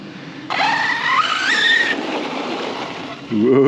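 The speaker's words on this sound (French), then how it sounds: "Tout en douceur, le dérapage." A Shiroi / Hobao 8SC radio-controlled car drifts with a loud, sustained tire skid and a rising electric motor whine, close by, lasting about three seconds before a fresh burst of motor noise.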